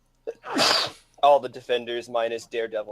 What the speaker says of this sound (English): If you're gonna sneeze, mute your mic